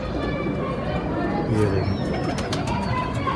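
Soft, low pigeon cooing comes through close by while someone talks over it.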